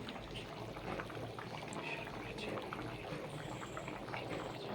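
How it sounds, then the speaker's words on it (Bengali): Egg curry gravy bubbling in a pan with a steady, dense simmering hiss and burble that runs continuously, close and moderately loud. "ঝোল ফুটতে শুরু করে দিয়েছে"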